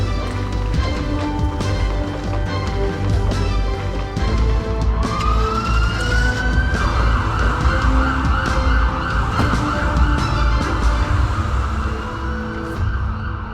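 A hospital emergency team's ambulance siren rises and then wails steadily, loud and close. It sits over a dense, continuous roar of traffic and background sound.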